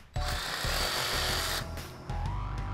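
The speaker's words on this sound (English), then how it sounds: "There's Chris lining up the drill with his fingers" A power drill whirs loudly at close range in a DIY build, running in a sustained burst, stopping briefly, then spinning up again for a second shorter run.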